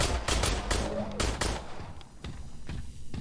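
Pistol shots in the video game Industria, a rapid run of sharp reports in the first second and a half, followed by fainter scattered bangs over a dense, noisy game background.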